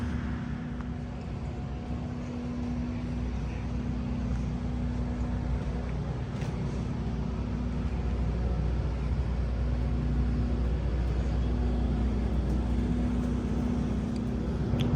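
A motorcycle with a Milwaukee-Eight engine and upgraded clutch rides along, its engine a steady low drone mixed with wind rush, unbroken throughout.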